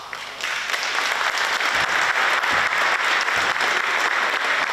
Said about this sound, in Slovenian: starši morda z aplavzom lahko to potrdite